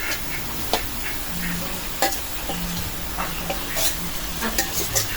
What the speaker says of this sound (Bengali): পেঁয়াজটা আমি একটু লাল লাল করে ভেজে নিলাম